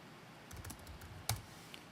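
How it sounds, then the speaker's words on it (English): A few quiet keystrokes on a computer keyboard enter a song name into music management software, sparse and faint, with one sharper click standing out near the end. "I can type out the song name"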